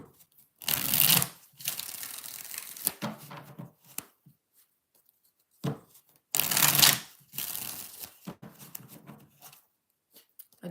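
Tarot cards being shuffled by hand, heard in two separate riffling bursts with quieter card taps and shuffling between them. The sound is close and crisp, with no talking.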